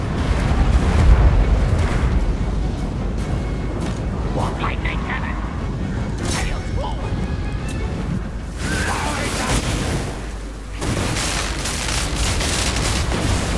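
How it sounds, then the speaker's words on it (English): Warp lightning cannon firing in a Skaven fantasy battle game, heavy rumbling booms and crackling bursts across a dense battlefield din, with someone talking over it. "Warp lightning cannon!"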